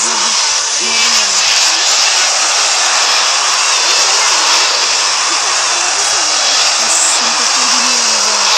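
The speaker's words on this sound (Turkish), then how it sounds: "Helikopter geliyor oraya." A helicopter in a video game, likely a gangster-themed open-world game, gives off a steady loud rotor and engine drone that fills the whole clip, with faint talk over it.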